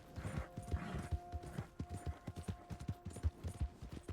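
Horse hooves clip-clop at a steady walking rhythm in Red Dead Redemption 2, close and clear with a low ambient hum beneath and no talk.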